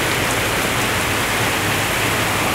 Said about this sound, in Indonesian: Hujan deras coy. Langsung turun dengan tiba-tiba sobatku.